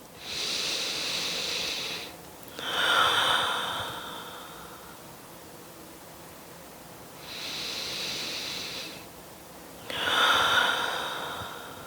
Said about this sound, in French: Encore 2 respirations ici.